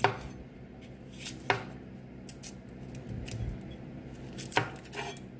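A knife slices an onion into rounds on a cutting board, making a handful of sharp, quiet cutting taps spaced irregularly against a faint background hush.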